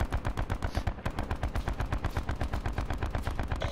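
Rapid automatic gunfire in a video game, a loud steady stream of sharp shots repeating evenly for several seconds with no talking over it.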